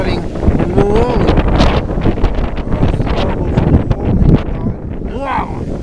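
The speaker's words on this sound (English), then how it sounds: "Windy, a little windy out here." Gusts of wind buffet the microphone with low rumbling thumps, while someone talks over the blustery noise at Carnelian Bay, Lake Tahoe.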